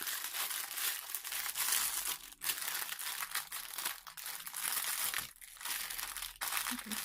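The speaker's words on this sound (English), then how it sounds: "Sorry about the crinkle." Crinkly plastic packaging of a craft goodies parcel rustles and crackles continuously up close, with brief pauses between handling bursts.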